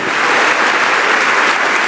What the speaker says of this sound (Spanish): Y démosle un aplauso con todo nuestro corazón.